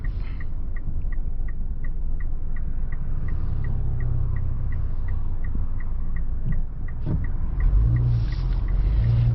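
Steady low rumble of a 2019 Mitsubishi Outlander four-cylinder on the move, heard from inside the cabin, with a regular faint ticking like a turn signal running over it.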